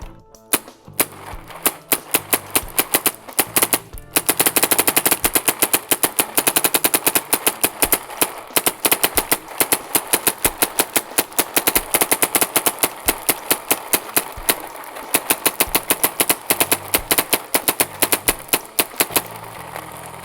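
NXE JRNY paintball loader running on a Planet Eclipse Etha marker, giving a loud, harsh mechanical rattle of rapid clicks and buzzing that goes on continuously for about twenty seconds, with brief lulls and no talk.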